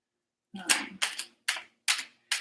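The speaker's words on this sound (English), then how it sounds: "These I can actually shuffle" Cards are riffled in quick bursts, five crisp fluttering rustles in a row with short gaps between, close up.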